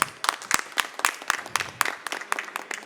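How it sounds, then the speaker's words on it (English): Scattered applause at a retail technology panel event: a modest number of distinct, fairly quiet hand claps land unevenly, thinning toward the end. "Let's have a huge round of applause"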